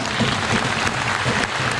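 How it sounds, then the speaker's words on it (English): A brief burst of steady applause from a crowd, dense and loud throughout. "I think it deserves a round of applause."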